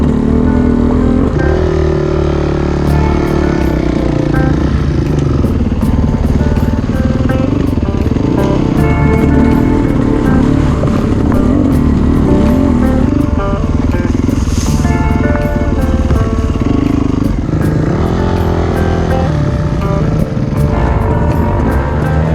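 Yamaha dirt bike engine running steadily as the rider heads back along a trail through dirt-bike terrain, a continuous loud motor drone with shifting pitch and occasional revving, close to the microphone, with no talking.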